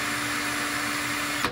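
An electric drill spins a restored instrument gauge part to work lubricant into its bush, giving a steady, continuous motor whir with a thin whine, close and even, that cuts off near the end.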